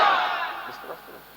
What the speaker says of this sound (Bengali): মিডিলে যারা আছে তারা তাকবীর দেন